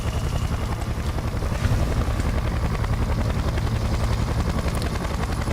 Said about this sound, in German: Ich werde von einem Hubschrauber beschossen.